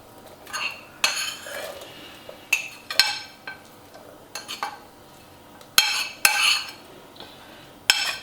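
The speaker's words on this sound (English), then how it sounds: "Give it a stir." A spoon stirs and clinks against a bowl of Thai sweetcorn fritter batter in bursts of scraping and knocking, several sharp taps with short pauses between, close and fairly quiet.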